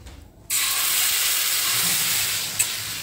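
Pancake batter poured onto an oiled pan bursts into a loud, steady sizzle that holds close and constant, with a brief sharp crackle near the end.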